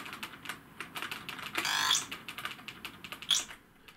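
Keys clack on a Saga replacement keyboard fitted to a ZX Spectrum, with quick irregular taps, a couple of longer rattling presses and a firm click, close and clear with no talk.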